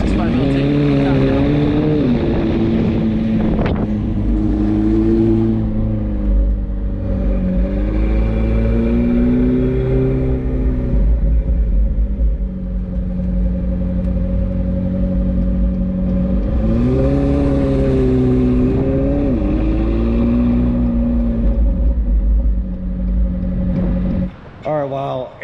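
A McLaren 765LT engine droning steadily while driving, with rising and falling revs as gears change, loud and close throughout, ending in a brief cut near the finish.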